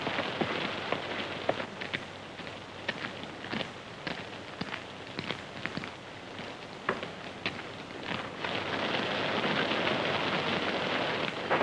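Steady rain falls hard during a thunderstorm, with scattered sharp drips and patters over a dense wash of noise and a low rumble building toward the end, with no voices.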